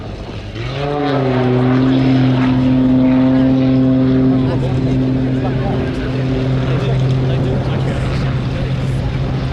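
A small aerobatic propeller plane drones loudly overhead at an airshow flying display, its engine pitch climbing and then holding steady and strong throughout.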